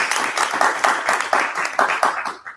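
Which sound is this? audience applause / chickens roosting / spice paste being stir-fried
audience applause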